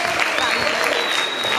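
Audience applause at the final of a Khasavyurt school league event in Dagestan, a dense, steady wash of clapping from a large crowd, close and loud throughout with a faint tone running underneath.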